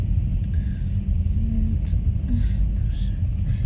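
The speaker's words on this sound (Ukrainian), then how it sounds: "Я це так боюся, що це бетонна мішалка впереді їде." Steady low rumble of road traffic heard from inside a moving car, with a concrete mixer truck driving ahead; the drone stays constant and fairly loud throughout, with no clear separate events.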